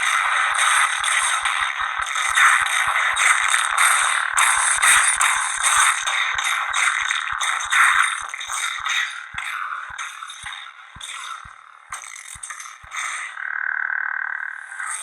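A lightsaber sound effect plays from a Korbanth Malak saber's CFX speaker pod, humming and buzzing steadily, with crackling, shifting swooshes and clashes layered on top, loud and close, with no talking.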